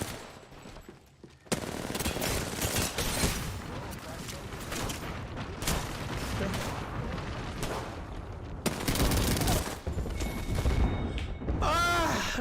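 Bursts of automatic gunfire and heavy shots from the Apex Legends shooter game crackle loudly in rapid volleys, with short pauses between strings of fire and speech mixed in at times.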